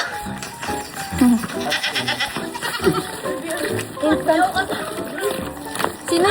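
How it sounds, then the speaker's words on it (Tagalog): Goats bleating at Tangadan Falls in La Union, with several animals calling close by in short bursts. Excited talk and voices run over and between the bleats throughout. "There's a lot of goat here."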